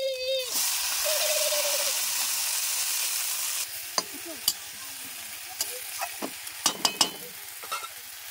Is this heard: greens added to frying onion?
yes